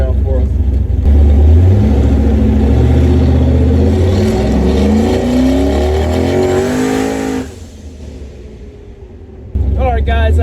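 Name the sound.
car engine revving doing a burnout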